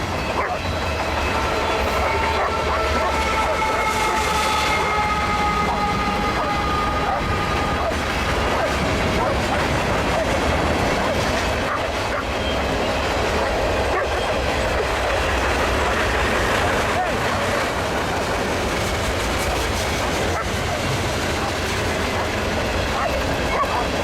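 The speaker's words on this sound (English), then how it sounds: "That's pretty long mixed freight." A long Union Pacific mixed freight train rolls past, its steady loud rumble and clattering wheels continuing without a break, with faint squeals along the way.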